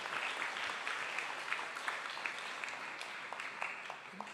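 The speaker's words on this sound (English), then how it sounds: "One more round of applause for our morning keynote." A conference audience applauds after a morning keynote at a STEM event, giving a steady wash of many hands clapping, heard from a distance and fairly quiet throughout.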